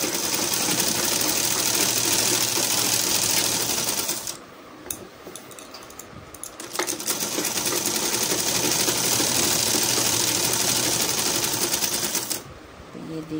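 An electric sewing machine runs in a steady, fast, close whirring stitch while hemming a readymade petticoat, with brief pauses and lighter handling sounds between passes.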